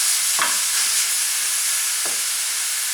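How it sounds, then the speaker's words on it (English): Ground beef fries in a pan with a loud, constant hissing sizzle, while a couple of spatula strokes break up the meat, heard as brief scraping pushes. "Break up the beef."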